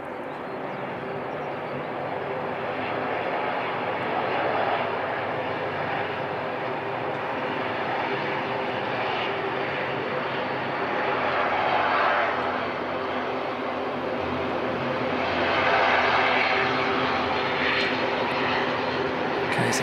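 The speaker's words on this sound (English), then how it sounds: "that Jetstar aircraft's definitely pushing back" Jetstar airliner engines run at Christchurch Airport, a continuous loud whining roar with slow swells in intensity, heard close and alone.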